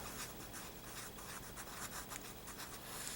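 Pen or marker scratching across paper while a title is written on a graph, a steady run of soft strokes and rubs, close and quiet, with no talking.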